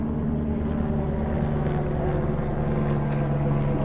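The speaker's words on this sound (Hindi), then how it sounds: "हेलीकॉप्टर आता हुआ" A helicopter passes near the tent camps on the Rambara–Kedarnath trek, its low steady rotor and engine drone filling the scene continuously and fairly loudly.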